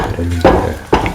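A spoon stirs sugar into a simmering dates and semolina dessert soup in a pot, making two short scraping clinks against the pan over soft bubbling, with a voice speaking over it.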